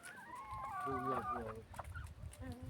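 A backyard flock of around thirty hens clucks in a steady, close chorus of short, pitched calls, with some louder squawks standing out through the middle.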